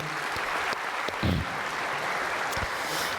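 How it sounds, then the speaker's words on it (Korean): A church congregation at a Korea-US alliance 70th anniversary thanksgiving service gives welcoming applause, a steady wash of clapping throughout with a few low thumps mixed in. "환영의 박수 해주시면 고맙겠습니다"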